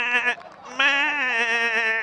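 A single goat bleat sound effect plays during a live T10 cricket broadcast from Malta: a loud, wavering, nasal cry. It opens with a short burst, breaks briefly, then swells into a longer quavering call.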